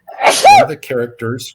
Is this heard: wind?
no